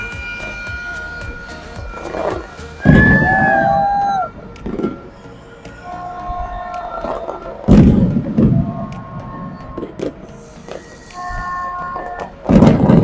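New Year fireworks explode near the Twin Towers at KLCC, Malaysia, heavy booming bursts spaced a few seconds apart amid crowd noise and whistling launches.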